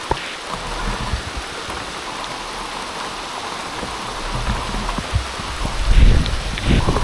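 Rain falls steadily during an outdoor airsoft game as a dense, even patter with no one speaking, and a few louder knocks and rustles close by near the end.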